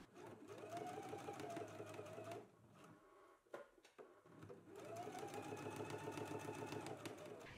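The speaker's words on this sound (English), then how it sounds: "let's go ahead and do top stitching along both of the middle fronts here" A sewing machine runs in two long bursts of top stitching along the middle fronts of a McCall's M8480 garment, steady and close, with a short pause and light handling noises between runs.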